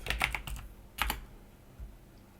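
Quick burst of keyboard typing, several close crisp keystrokes, then a short pause and another couple of taps, fading to quiet.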